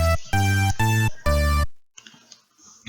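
Part of an FL Studio beat remaking a song: a few loud, tonal synth stabs ring out and decay in quick succession, followed by a quieter stretch of soft clicking.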